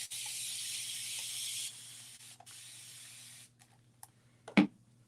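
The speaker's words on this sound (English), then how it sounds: "I'm going to immediately spray this down" Water sprayed from a spray bottle onto Mod Podge embossing, a close, steady hiss for a few seconds, then shorter sprays and a brief sharp clatter near the end.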